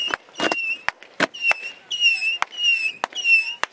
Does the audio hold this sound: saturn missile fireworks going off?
yes